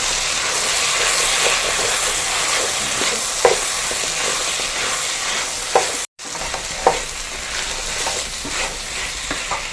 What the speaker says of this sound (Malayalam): നമുക്ക് നല്ലപോലെ ഇളക്കി കൊടുക്കാം